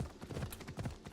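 Horse hooves clip-clop at a steady trot in the Assassin's Creed Odyssey video game, close and fairly loud, with a thick low rumble underneath.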